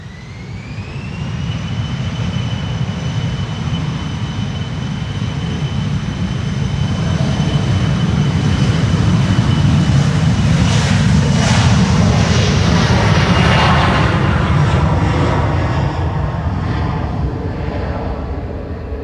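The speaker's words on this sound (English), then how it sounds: "This is KLM flight 1799 to JD's hometown of Düsseldorf" KLM passenger jet taking off from the Polderbaan runway at Schiphol, its engines a loud, steady roar with a rising whine that swells and holds for the whole stretch before easing slightly at the end.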